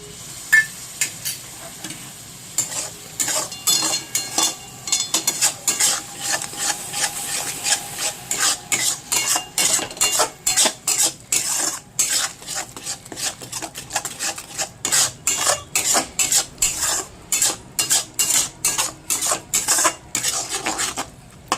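Onion and garlic paste stirred in a cooking pot for chicken kosha, a long run of rhythmic close scraping strokes that speed up into quick regular rasps against the pot, no talking.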